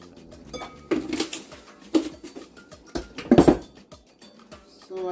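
A spoon stirs ground turkey meat sauce in a pot, giving irregular scraping clinks and knocks against the pot in loose bursts over several seconds, close and moderately loud, with no talk.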